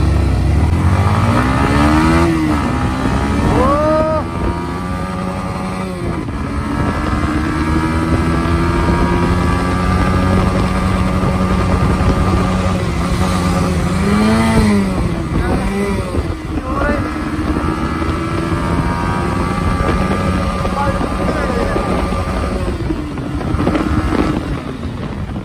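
Two MT15 and R15 motorcycles race along an open road. Engines rev up in repeated rising sweeps through gear changes under gusty wind buffeting, with people talking intermittently over the ride.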